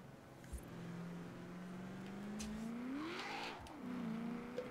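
A 2015 Chevrolet Camaro Z/28 drifting in Forza Horizon 4, its engine holding a sustained droning note that rises and dips with throttle, plus light tire noise, moderately quiet and with no speech.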